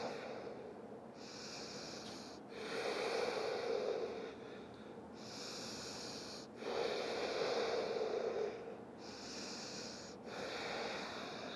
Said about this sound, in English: we'll take 5 deep breaths here.